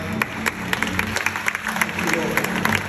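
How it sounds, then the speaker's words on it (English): An audience at a church worship service applauds and cheers, dense clapping and crowd noise building steadily with voices mixed in throughout. "Come on, keep cheering them on. This is incredible."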